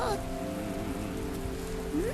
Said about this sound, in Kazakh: Жаңбыр көп ұзамай басылып та қалар.